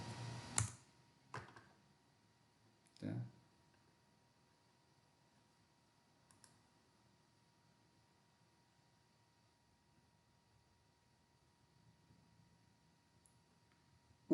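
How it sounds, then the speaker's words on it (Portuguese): A few isolated keystrokes on a computer keyboard, with a cluster of clicks at the start and another around three seconds, then a long near-silent stretch of faint hiss. "Vamos digitar aqui"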